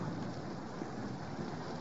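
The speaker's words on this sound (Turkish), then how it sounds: "Yağmur. Elhamdülillah." Steady heavy rain pours in a Turkish radio drama, a dense continuous hiss with a low rumble like distant thunder, with no voices.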